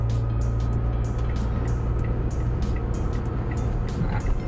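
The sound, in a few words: Wuling Confero S engine accelerating, shifting to fifth gear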